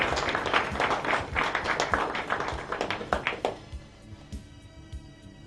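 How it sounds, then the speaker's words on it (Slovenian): Audience applause for the ten best football goals of the year at an awards show, a dense burst of clapping that thins out and fades to scattered claps near the end. "Torej še enkrat aplavz za vseh 10 najlepših zadetkov preteklega leta."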